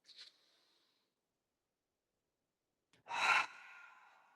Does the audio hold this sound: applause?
no